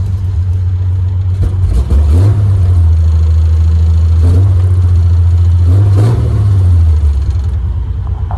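A restored 1948 Willys Jeep fitted with a GM 4.3 liter V6 and a 3-speed floor shift drives along, its loud, steady engine drone rising and falling through several gear changes, heard close and alone.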